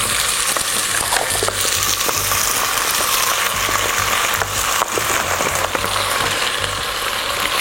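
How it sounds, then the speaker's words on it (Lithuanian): Duck leg meat browning in a splash of olive oil in a hot pot, a loud, dense, continuous sizzle and crackle heard close up with scattered pops and no speech. "Dedame mėsą ir ją gerai apskrudiname."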